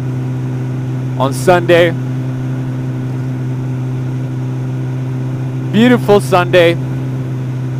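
A motorcycle engine runs steadily at a low, even drone while riding on a sunny day, loud and continuous beneath a voice talking briefly twice.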